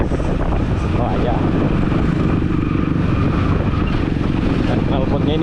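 Kawasaki KLX BF 150 dirt bike fitted with a prong exhaust, engine running loud and close with a steady throbbing roar and slight wind rush throughout.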